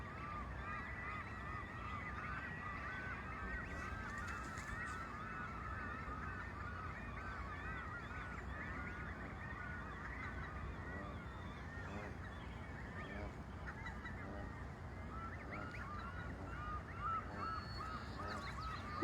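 Geese with goslings honk repeatedly in a busy outdoor chorus at a gull nesting site, the calls steady and mid-distance with other birds mixed in and no talking.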